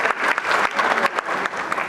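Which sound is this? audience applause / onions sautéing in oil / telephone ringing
audience applause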